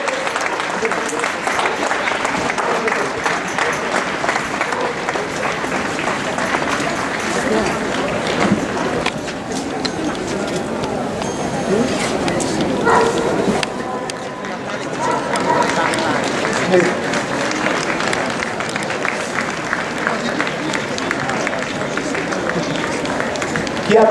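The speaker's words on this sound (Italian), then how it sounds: "Un saluto e un applauso a questi nostri volontari" Outdoor crowd at the 2019 Procession of the Magi by the Basilica of Sant'Eustorgio applauding volunteers, long steady clapping mixed with shuffling footsteps and chatter, with a voice talking over it.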